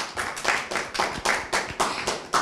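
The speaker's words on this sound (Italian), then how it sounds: "Un applauso per Ambra Composto" A small audience at a volleyball club press conference claps in a sparse, rhythmic burst, individual claps distinct and evenly spaced, fairly close and moderately quiet.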